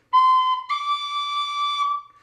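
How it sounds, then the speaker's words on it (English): A pennywhistle plays one clear, steady open note with all holes uncovered. It shifts slightly higher partway through and holds for about two seconds, close and alone. "now you have to learn how to hold the whistle and have no fingers on it."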